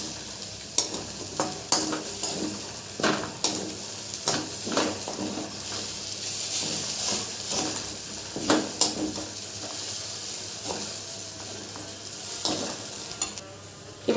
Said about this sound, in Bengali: এবার একটু নাড়াচাড়া করে নেবো। মশলাটা খুব ভালো করে আমার পুরো চালটার সাথে মাখিয়ে নিতে হবে।